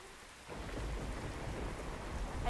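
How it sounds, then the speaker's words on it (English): Thunder and heavy rain in the video game The Last of Us Remastered, a deep rumble swelling after a quieter start, with steady rainfall hissing throughout and no voices. "I love how the controller vibrates with the thunder!"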